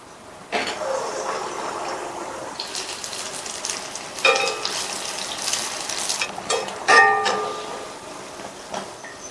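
Kara appam batter meets a hot pan with a hiss of frying, rising in a few bursts of sizzling and bubbling that fade between pours.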